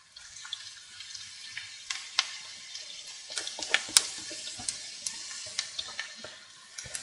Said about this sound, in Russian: а теперь вместе с морковкой пожарим